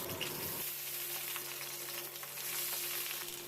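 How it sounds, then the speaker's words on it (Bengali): Bottle gourd leaves frying in a little hot mustard oil in a wok give off a steady, dense sizzle that runs close and unbroken throughout, with no voices. "কড়াইতে অল্প সর্ষের তেল গরম করে লাউ পাতাগুলো দিয়ে দিলাম"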